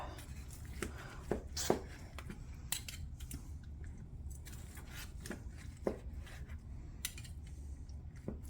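Cooked corned beef being sliced with a knife on a board, giving repeated short cutting taps and scrapes at an uneven pace, close and fairly quiet against a low steady background hum.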